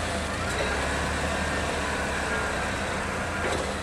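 Doosan 5k pneumatic-tire forklift running as its mast tilts forward, a steady loud engine and hydraulic drone with a faint high tone, no voices.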